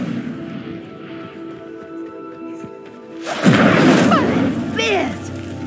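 Incendio fire spell cast in a Harry Potter video game, a sudden loud whooshing burst of flame roaring in after a quiet stretch with low background hum, the fiery rush staying loud for a couple of seconds.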